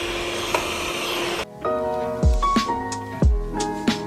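An electric mixer whisks egg whites and sugar toward soft peaks for a chocolate ogura cake: a steady motor whine that cuts out, then restarts with bumping, rattling knocks against the bowl, close and fairly loud.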